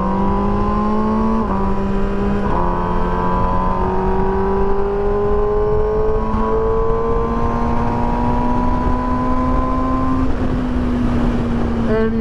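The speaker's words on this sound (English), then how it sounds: "I can't get over the throttle response and the savageness of this motor." A 2021 MV Agusta Brutale 1000 RR inline-four motorcycle engine revs and pulls hard through the gears, with steady rising pitch broken by brief shift drops, close and loud throughout.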